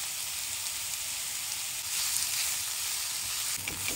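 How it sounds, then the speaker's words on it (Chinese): Shiitake mushrooms frying in oil in a wok, a steady bright hissing sizzle with fine crackles, close and even, swelling slightly midway, with no talk. "加2匙油， 加入香菇爆香"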